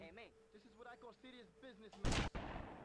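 A loud burst of gunfire in the video game GTA Vice City on PS2, close and abrupt, following someone speaking briefly, with a second report right after the first.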